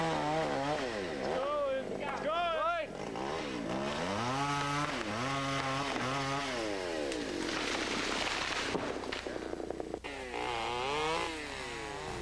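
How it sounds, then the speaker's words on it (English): A chainsaw clearing a fire line runs loud and close, its engine revving up and down in repeated rising and falling whines over a steady low drone. "The chainsaw is a highly effective line clearing tool."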